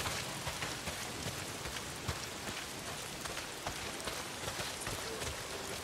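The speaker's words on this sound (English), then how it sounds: "Not if it's pissing down rain." Heavy rain pours down in the video game Days Gone, a dense steady hiss with scattered sharper drops spattering close by throughout.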